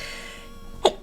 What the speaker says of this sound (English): Oh, I'm gonna sneeze again.